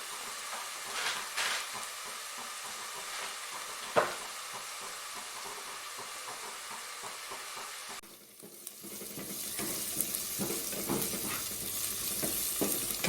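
Onions with crushed masala and a pinch of salt sizzle in a pan while being stirred, a soft crackling fry with occasional scraping knocks, then the sizzle grows brighter and louder in the second half.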